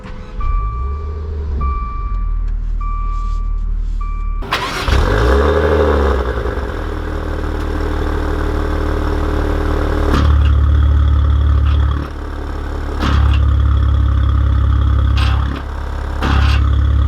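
A 2020 Maserati Levante GranLusso fires up with a loud starter crank and catch, then settles into a deep, steady idle heard close by, with the low rumble rising slightly in a couple of places and no talking.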